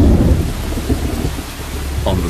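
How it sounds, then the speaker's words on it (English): A typhoon brings heavy rain and thunder, a loud, steady wash of rainfall under a deep, rolling rumble that fills the whole stretch. "a typhoon strikes Luzon. The heavy rains mix with the ash."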